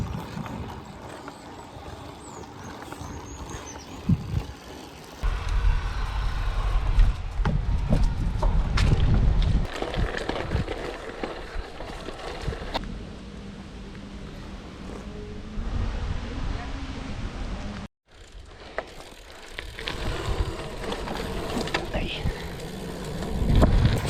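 Strong headwind buffets a cyclist's microphone during a long hill ride, a steady broadband roar with gusty surges and a brief dropout near the end, no speech.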